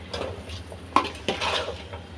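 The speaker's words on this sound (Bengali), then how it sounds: "খুবই ভালোভাবে ভেজে নিতে হবে।" Sacrificial meat and spices for khichuri fry in a pan while being stirred. A spatula scrapes and clinks against the metal in a few uneven strokes over a soft sizzle.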